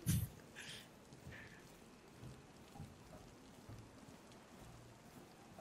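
Rain falling in DayZ, a soft, steady wash of drops with faint low rumbles, preceded by a sharp loud knock at the very start, no voices.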